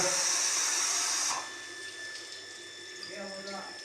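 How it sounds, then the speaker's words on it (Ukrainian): Water gushing from a deep well pump just lowered into a well, a steady broadband hiss that stops abruptly after about a second and a half, followed by quieter trickling and faint background sounds. "Є вода пішла, та добре."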